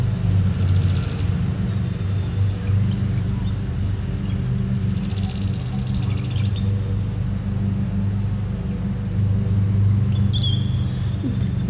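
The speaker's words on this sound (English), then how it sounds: "I'm not sure what kind of bird you are" A small, dark bird sings outdoors in a meditation spot, brief high chirps and trills scattered over a steady low rumble of traffic or wind, fairly distant.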